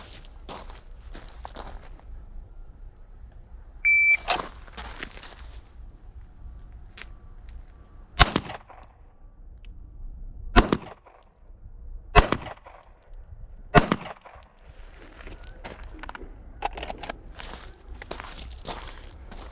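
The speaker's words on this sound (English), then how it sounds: "I start off behind the target, approach, and fire my rounds" Handgun shots ring out during a New Jersey law enforcement handgun qualification, several sharp, loud single cracks spaced a second or more apart, with quieter footsteps and shuffling movement between them.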